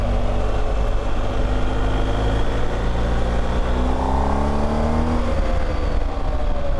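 A BMW R1250GS motorcycle engine pulls hard under full throttle, a steady loud drone with its pitch climbing through the revs, continuous and close with wind rushing over it and no talking.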